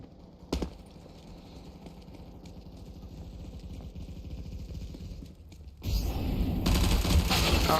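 Rapid gunfire in the CS:GO video game, a dense rattle of shots over keyboard clatter and a low background drone, ending in a loud sustained burst of fire.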